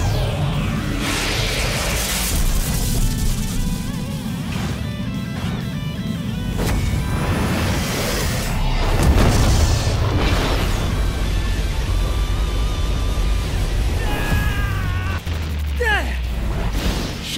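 Collapsing Star Roaring Cannon attack in the One Punch Man video game unleashes a loud barrage of booming explosions, crashes and whooshes, layered with character voices and a steady blast of effects throughout.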